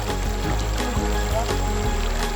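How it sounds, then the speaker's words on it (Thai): Fast water flowing over rocks in a canal stream at Had Klong makes a steady, loud, unbroken rushing wash close by, with no pauses. "เสียงน้ำไหลนะครับท่านผู้ชม เสียงน้ำไหลที่หาดกลอง"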